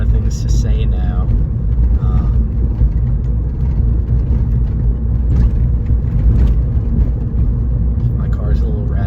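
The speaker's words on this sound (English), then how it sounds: "My car's a little rattly" A car's interior drones with a steady low road rumble and faint rattling while driving, loud and continuous throughout, with a voice occasionally heard over it.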